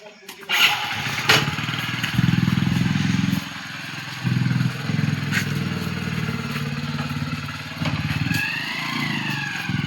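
A motorcycle engine runs and revs with clattering mechanical noise, starting near and loud and holding steady for about ten seconds, with a few brief sharper bursts.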